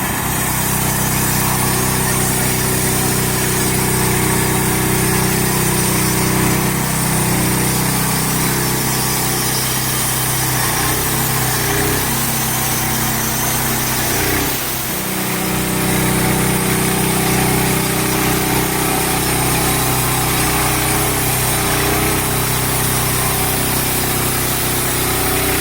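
A sawmill blade cutting a log into 1 inch flitches, a loud, steady engine-driven whine and cutting roar lasting the whole span with a brief dip near the middle.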